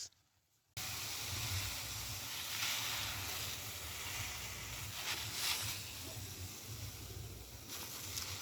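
Pesticide sprayer misting onto vegetable garden crops, a continuous close hiss of spray that starts abruptly after a brief quiet moment and holds steady with slight surges.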